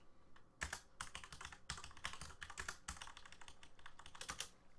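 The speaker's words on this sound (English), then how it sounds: "Typing away a furious message." Rapid, furious typing on a computer keyboard, close and crisp, with bursts of clattering keystrokes and short pauses, no voices.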